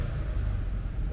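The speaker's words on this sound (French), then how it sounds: "Autre voiture." Car passing on a street in Singapore's Kampong Glam district, a steady low engine and tyre rumble holding close and fairly loud throughout, with no voices over it.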